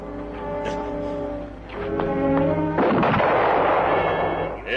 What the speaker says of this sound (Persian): تفنگاتونو بردارین و شلیک کنین، بهش شلیک کنین